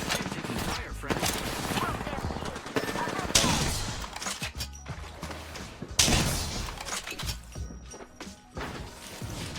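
Gunfire in the video game Apex Legends, with dense bursts of shots and impacts running throughout, loud and busy, mixed with game sounds and voice chatter.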